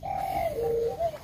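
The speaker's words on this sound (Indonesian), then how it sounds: "Tuh pakai pikatan tekukur campur deruk." Lure recordings of spotted dove and deruk dove calls play at a beach spot, giving smooth, drawn-out cooing notes that glide down in pitch and repeat over a steady background hiss.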